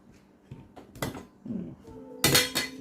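A metal ladle clinks and scrapes against a pot while scooping Thai jungle curry broth for khanom jeen, giving several sharp clanks close by, the loudest near the end, with no voices.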